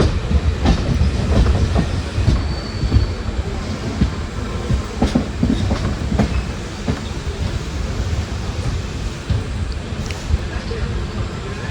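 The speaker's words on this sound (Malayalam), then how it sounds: "ഷൊർണൂർ ജംഗ്ഷൻ റെയിൽവേ സ്റ്റേഷനിലേക്ക് നമ്മൾ പതുക്കെ കയറിക്കൊണ്ടിരിക്കുകയാണേ." Antyodaya Express passenger train, hauled by a P7 locomotive, rolls slowly into Shoranur Junction station, heard from inside a general coach with steady rumbling and intermittent wheel clatter throughout, loud and close.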